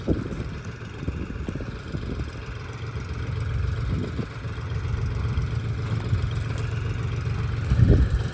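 Tractor engine idling on a potato farm during harvest, a steady low mechanical drone with a slightly rising push near the end, no talk over it.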